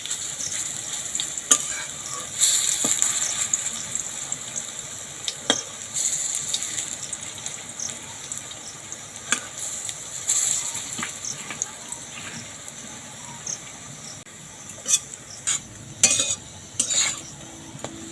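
Ripe banana fritters fry in hot oil, a continuous close sizzle broken by frequent sharp clinks and scrapes of a utensil against the pan as they are turned.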